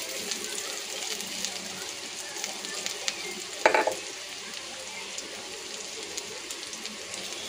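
Ground ginger and garlic paste frying in a pan, a continuous close sizzle with a brief clatter of stirring partway through, and no speech over it.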